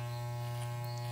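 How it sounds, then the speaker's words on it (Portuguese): Electric hair clipper buzzing steadily during a fade haircut, a close, continuous hum with no pauses and no voices over it. "Agora eu vou subir a maquininha, ó, subir a maquininha."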